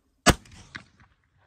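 Steger P350 air rifle fired once on a range, a single sharp loud crack followed by a short mechanical clack of the bolt and a faint rattle, with no talking.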